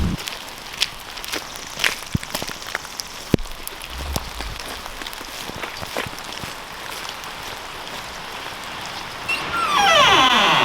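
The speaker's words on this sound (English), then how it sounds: "A nice, wet, rainy day today." Rain falls steadily on a farm, a dense patter of drops with sharper close ticks on nearby surfaces and a few scattered footstep-like knocks, swelling into a louder rush near the end.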